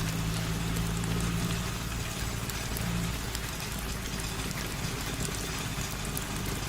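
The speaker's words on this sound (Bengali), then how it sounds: "এখন মনে হচ্ছে এই বৃষ্টি এত তাড়াতাড়ি ছাড়বার নয়।" Heavy rain in a Bengali horror cartoon pours down in a steady, dense hiss of drops, continuous and even throughout with no voices.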